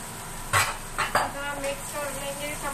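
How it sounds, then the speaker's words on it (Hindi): Utensil scraping and clinking as vegetables, fried chicken and rice are stirred together in a hot pan over high flame, a few distinct scrapes at first, then a soft sizzle underneath. "वेजिटेबल्स और चावलों को अच्छी तरह मिक्स कर लिया"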